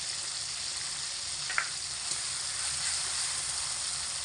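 Ginger paste hitting half-softened tomatoes in a pan, giving a constant close sizzle and hiss with a couple of small spatula knocks.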